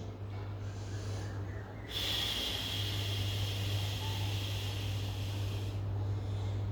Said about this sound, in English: we will be inhaling through the nose and exhaling through the mouth. Deeper inhalation and deeper exhalation